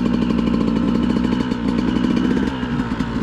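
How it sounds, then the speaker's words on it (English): A cold motorcycle engine running on choke before warming up, a loud, close, rapid popping idle with a rough, uneven rhythm that holds steady throughout. "Bike's not warmed up at all. The engine's pretty cold."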